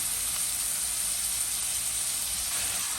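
Green chillies sauté with salt in a pan for chicken kurma, giving a steady, soft sizzle and hiss that runs evenly throughout with no talking.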